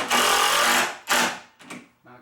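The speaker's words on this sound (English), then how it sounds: "I'm just drilling through the main stud" A power drill bores through a main wooden stud while building a parts shelf, whining in several short bursts: one long run, then a quick second burst and a few brief stuttering pulses.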